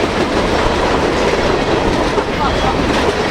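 Loud, continuous rumbling and clattering of a Norfolk Southern freight train rolling past close by in Portage, Pennsylvania, with a steady roar of wheels on rails.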